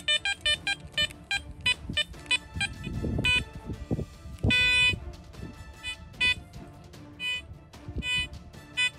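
A metal detector out on a treasure hunt gives a quick series of short electronic beeps and tones, irregular and fairly close, over rustling handling noise and low thumps.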